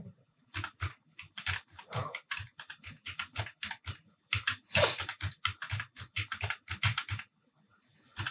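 Rapid typing on a computer keyboard while working in an Excel spreadsheet, a steady run of close, crisp key clicks in short bursts with brief pauses, loud and alone.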